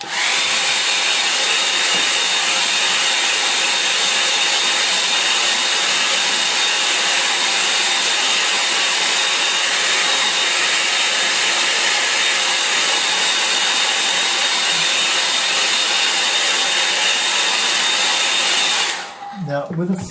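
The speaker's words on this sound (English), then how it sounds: "I'm going to give this the hairbrush the hairdryer treatment" A hairdryer blows on a watercolour painting with a loud, steady whirring roar that holds constant for about nineteen seconds before cutting off.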